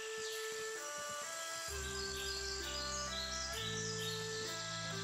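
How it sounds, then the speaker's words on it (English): Loud bird ambience in the game Shenmue III, steady chirps and tweets layered over sustained tonal game sound, continuous and without speech. "The world's loudest birds."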